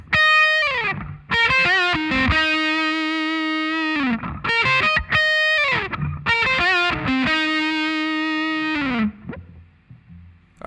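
The verse of a song rings out on a distorted electric guitar with effects, short picked phrases alternating with long sustained notes, loud and unaccompanied by speech.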